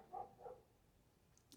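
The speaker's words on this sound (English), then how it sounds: "Sorry if you hear my dog in the background." A pet dog barking outdoors, two soft muffled barks early on, distant and faint in the background, followed by quiet.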